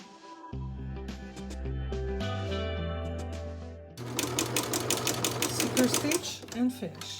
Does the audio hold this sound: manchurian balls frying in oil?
no